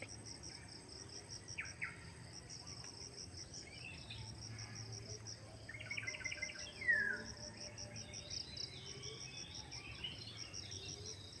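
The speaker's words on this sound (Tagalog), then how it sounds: "makinggan mo ang boses ng mga ibon" Scattered bird calls and chirps ring out over a steady, dense chorus of crickets and insects, fairly faint and outdoors.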